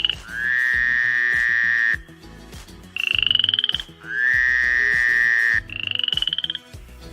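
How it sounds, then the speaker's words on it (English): A frog croaks in long, loud, sustained trilling calls, four drawn-out bursts alternating between slightly different pitches with brief gaps between them, heard alone with no talking. "If you guessed frog, you were correct"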